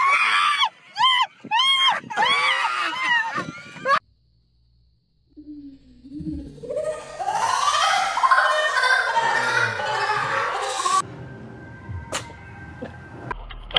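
A cat lets out a series of shrill, wavering screams and yowls in short bursts, followed by a pause, then a longer stretch of loud, rough, harsh squalling and commotion.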